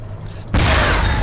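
A grenade explodes in the World War II shooter Iron Front: Liberation 1944, a sudden loud, close blast that follows a quiet stretch and leaves a dense, lingering roar.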